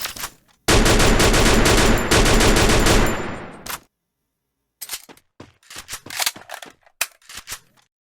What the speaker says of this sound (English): There was someone shooting, and I could not quite figure out where they were.